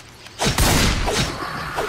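In the zombie mobile game Escape Countdown 24 Hours, a gun fires after a quiet moment, bursting out in a loud, close blast with a second heavy report following and a fainter shot near the end.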